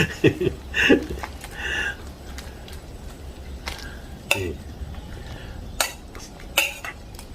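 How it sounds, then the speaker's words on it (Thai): A ladle clinks and scrapes against a pot while pressing pineapple down into simmering Thai sour curry with fish. Scattered metallic knocks rise over a low bubbling bed, with a few faint chuckles. "แล้วก็กดกดสับปะรดให้จมน้ำแกง"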